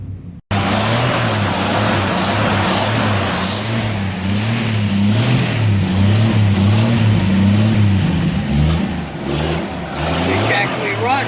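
1959 Ford tow truck engine idling loud and close with a steady, slightly uneven low throb, running continuously after a brief start at the beginning.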